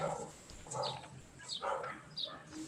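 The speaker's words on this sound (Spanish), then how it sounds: "El perro no está de acuerdo con esto, me parece." A dog barking and yipping in short bursts in the background of a room, fairly faint and somewhat distant, several separate barks with quiet gaps between them.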